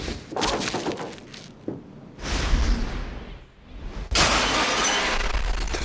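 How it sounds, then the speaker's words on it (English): Window glass shatters explosively for a film stunt shot on a large set, a loud crashing burst and whoosh followed by a second heavy smash and sustained debris rush, with no talk. "We wanted the glass to explode in sort of an ever-expanding circle"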